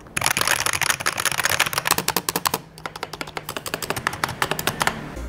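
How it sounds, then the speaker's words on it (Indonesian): Keys on a TTeSports Commander keyboard clatter in fast, close typing bursts, each press a sharp click that sounds noisy and almost mechanical, with one short pause midway. "cuma suara keyboard yang jadinya agak berisik menyerupai mechanical kayak gini"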